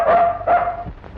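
A dog gives two quick, sharp barks close by, in a brief burst with a short pause between them, from a scene in an old Tamil film.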